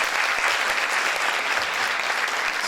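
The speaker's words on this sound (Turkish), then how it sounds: "bir alkış, moral alkışı alabilir miyiz?" Steady, dense applause from an audience at a drama students' certificate ceremony, a continuous wash of many clapping hands with no break.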